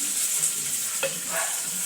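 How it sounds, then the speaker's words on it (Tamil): Onions are sautéed in a pan for a simple home-cooked meal, giving a soft continuous sizzle with a faint stir or scrape partway through, close and fairly quiet. "நல்லா வதக்குங்க."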